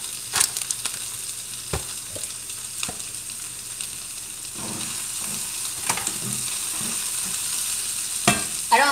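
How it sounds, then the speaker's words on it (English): Vegetables frying for Philly cheesesteaks, a steady close sizzle in a pan with occasional stirring scrapes and clicks, no talking. "I don't cook the vegetables very long because I don't like them mushy"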